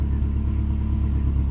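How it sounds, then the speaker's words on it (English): Boosted Nissan D21 Hardbody truck engine idling steadily while warming up, a close, continuous low rumble with an even, unchanging throb. "the truck is warming up, as you can see"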